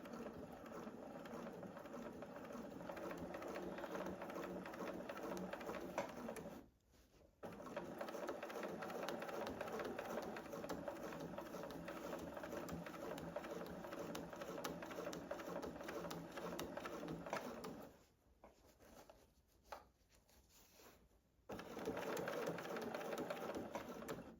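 A sewing machine quilts layers of an oven mitt, its steady rapid mechanical whir running in long stretches with brief stops in between, close and alone without talk.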